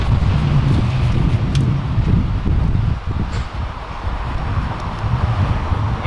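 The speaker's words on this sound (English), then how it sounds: "Windy today." Strong wind blows outdoors at a backyard beehive, roaring steadily and buffeting the microphone in loud, continuous gusts with a brief dip midway.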